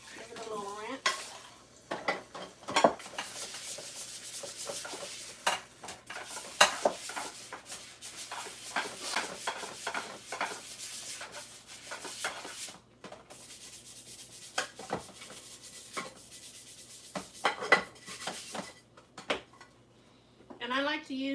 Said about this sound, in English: Let's get this bowl and this frying pan. Give it a little rinse.